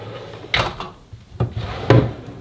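A drawer in a new makeup vanity slides and bumps open or shut, giving a few separate wooden knocks and scrapes at close range.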